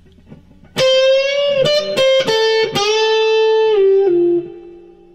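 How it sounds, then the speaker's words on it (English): An electric guitar plays a solo riff, a run of sustained, bent and sliding single notes with a distorted, singing tone that lasts about four seconds before fading out. "Our next riff will sound like this."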